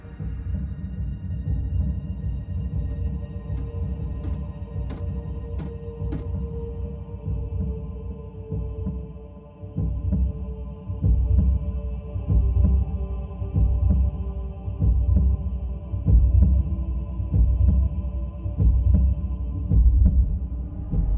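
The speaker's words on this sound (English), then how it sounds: "I can still hear it pounding in my brain! a Cybertronian heartbeat?" A deep, throbbing Cybertronian heartbeat from the Transformers Prime animation pulses rhythmically under a low, droning hum, growing louder and more pounding partway through, with faint electronic pings early on.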